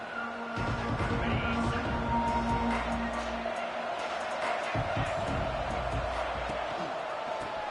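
Crowd noise from a Clemson college football video game: a dense, loud stadium roar with bursts of cheering and thuds, and a voice talking over it.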